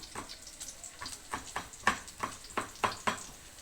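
Dried taro leaves cook in a pan for laing, giving a soft, steady sizzle broken by regular scraping strokes roughly every half second, moderately close with no talking.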